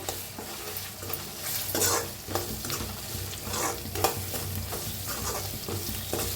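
Red chili powder and coriander powder masala roasting in a pan for dal dhokli, with continuous sizzling and frequent rhythmic stirring scrapes, fairly close, with no voices.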